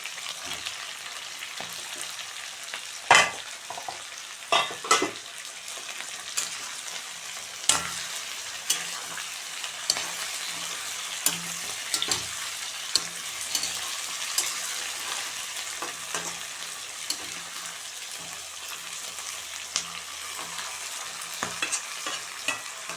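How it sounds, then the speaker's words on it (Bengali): A spatula scrapes and stirs previously fried fish head in a frying pan, with irregular clacks and scrapes over a faint steady sizzle, close and fairly prominent, with no talking. "এবার দিয়ে দেবো ভেজে রাখা মুড়োটা"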